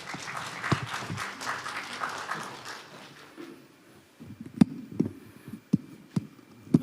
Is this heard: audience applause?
yes